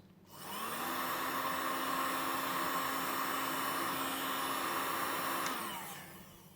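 Heat gun blowing hot air over heat shrink tubing on Amiga 500 wiring, a steady close whooshing roar with a faint whine that starts abruptly, holds evenly for about five seconds, then cuts off.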